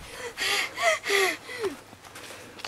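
Heavy, breathy panting right after climbing a sand dune in Słowiński National Park: a close run of loud gasping breaths with a few voiced, strained edges, then quieter breathing trailing off.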